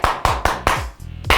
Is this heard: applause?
yes